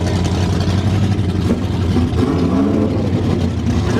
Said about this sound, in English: I'm right behind a big block with open headers.